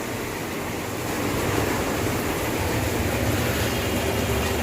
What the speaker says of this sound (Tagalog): ang taas ng baha niyan sobrang taas